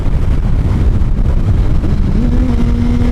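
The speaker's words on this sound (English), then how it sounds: "so we're in 3rd gear right now on the Gixxer" A Suzuki GSX-R (Gixxer) motorcycle engine pulls in third gear at road speed, a constant loud drone with heavy wind buffeting, a rising engine tone emerging near the end.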